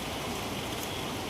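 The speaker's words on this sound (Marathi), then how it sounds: "कसला पाऊस पडतो यार, खतरनाक." Heavy monsoon rain pours down in a dense, continuous hiss of drops beating on surfaces, steady and close with no voices.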